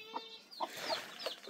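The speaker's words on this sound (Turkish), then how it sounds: "Yabani tavuğumuz civcivleriyle oldukça mutlu." A wild hen clucks softly beside her newly hatched chicks, several short clucks in an uneven rhythm, with faint high chick peeps mixed in, all close and fairly quiet.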